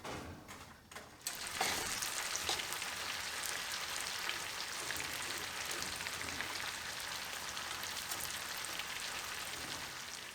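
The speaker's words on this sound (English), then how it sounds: "Just saute them a little bit." Steady crackling sizzle of pecans sautéing in butter in a pan, a continuous hiss from start to finish after a brief quieter opening.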